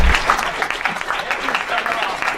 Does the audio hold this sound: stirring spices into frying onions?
no